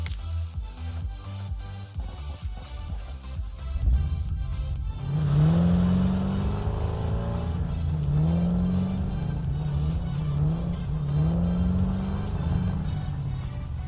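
Car engine in the video game Satisfactory, idling low and then revving repeatedly in rising and falling surges after a shift in the background sound, loud and close with no talk.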